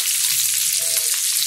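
Chopped onions and capsicum sautéing in a pan for chicken chilli, a steady close sizzle with a brief stirring scrape partway through.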